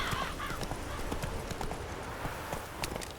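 Geralt's horse in The Witcher 3: Hearts of Stone trots along with steady, rhythmic clip-clop hoofbeats under a continuous game ambience, accompanied by a brief whinny near the start.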